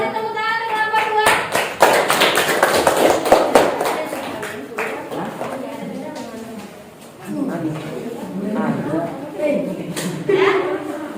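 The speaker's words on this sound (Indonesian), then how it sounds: "kasih tepuk tangan untuk kelompok 2" A group of students claps for the second group in a classroom, a burst of quick, fairly close hand claps that thins out as people begin talking over it.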